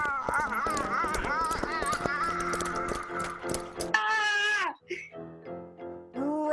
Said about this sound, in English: Runaway horses!